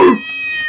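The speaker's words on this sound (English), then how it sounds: "Wait, was that the cat?" A single cat meow, close and fairly loud, with a bright harmonic wail that trails off and thins out over a fraction of a second, with no talk over it.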